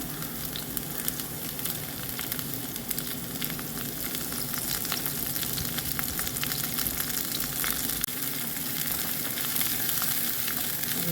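Chopped garlic, shallots and curry leaves sauté in hot oil, giving a loud, dense, unbroken crackling sizzle that holds steady throughout without voices.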